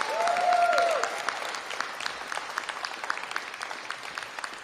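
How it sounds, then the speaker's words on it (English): Audience applause at an award ceremony honoring heroes, a steady wash of many hands clapping that swells at the start and then holds at a moderate, fairly distant level before tapering slightly. "let's give them all a big round of applause"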